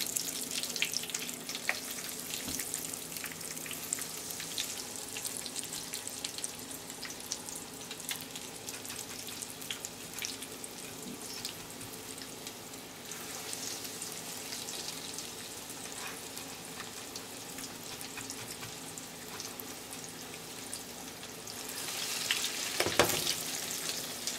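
Eggplant slices for eggplant parmesan fry steadily in a pan, a continuous close sizzle with faint crackles, swelling briefly louder near the end.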